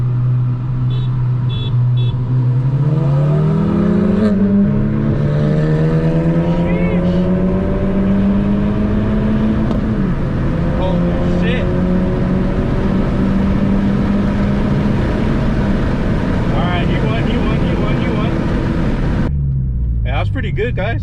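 A 2020 Honda Civic Si pulls hard in second gear from about 30 mph, its engine note climbing steadily in pitch and staying loud and close, then dropping away as the throttle lifts near the end.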